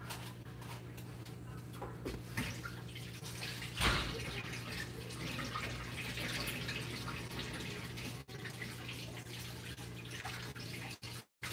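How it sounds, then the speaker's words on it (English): Tap water runs steadily while hands are rinsed at a sink during a sourdough loaf shaping session, a continuous hiss with a low hum underneath and a brief splash partway through. "I'm going to go rinse my hands off before I touch the camera."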